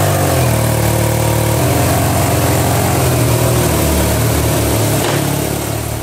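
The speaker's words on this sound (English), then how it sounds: "you've got the smoother bark of the boxer, and also the famous side-to-side wobble when you start it up." A BMW R 12 cruiser's boxer engine idles steadily and loudly up close, a throbbing low rumble with slight uneven pulsing throughout.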